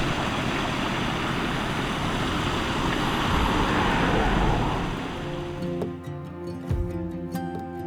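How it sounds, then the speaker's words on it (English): A small stream rushes steadily with a broad, hissing wash that fades toward the end, where a low hum and faint clinks take over. "we're passing a little stream just down here, which I think must lead down to the river"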